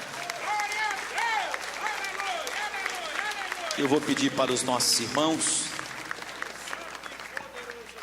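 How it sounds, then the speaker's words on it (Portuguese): A church congregation claps steadily throughout while a pastor speaks in Portuguese over the applause, his voice clear above the dense, continuous clapping. "Pode louvar a Deus com as palmas."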